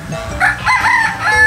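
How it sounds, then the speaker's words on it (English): A rooster crows loudly and close by at an eco-park orchard in Baras, Rizal, its drawn-out cock-a-doodle call filling most of the moment with clucky fowl tones around it. "Hi bird."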